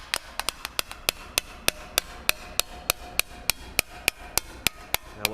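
A hammer shapes sheet metal for a custom chopper seat pan, striking about twenty crisp, ringing blows in a steady, fairly quick rhythm, close by and alone without talk.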